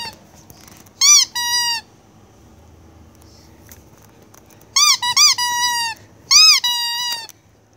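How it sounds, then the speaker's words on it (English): Squeaky toys in a shop, giving several bursts of sharp, high-pitched squeaks in quick clusters separated by quiet gaps. "Some squeaky toys."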